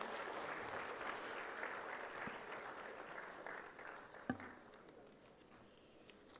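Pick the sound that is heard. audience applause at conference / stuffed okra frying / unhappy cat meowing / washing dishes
audience applause at conference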